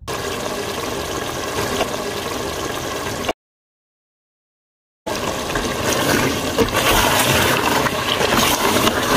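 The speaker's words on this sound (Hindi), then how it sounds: "मिसाले जब ऐड करेंगे तो साथ साथ पानी भी डालते जाएंगे ताकि मिसाले जले ना" Water pours and splashes steadily into a pan of spices, breaking off into silence for a moment before the pouring resumes.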